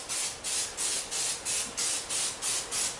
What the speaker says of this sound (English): Non-stick spray for the pan.